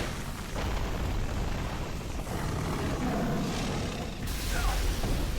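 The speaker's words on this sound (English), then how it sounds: "Fucking body explosion." A body explosion in the video game Dark Souls II produces a dense, rumbling burst with booming noise that swells and lingers for several seconds, loud and unaccompanied by talk.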